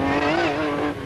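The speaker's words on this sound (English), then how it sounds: "It sums up for me what a racing engine should feel like and sound like" ERA vintage Grand Prix racing car engine revving hard in a loud, close, continuous rasping note whose pitch wavers and climbs slightly over about a second.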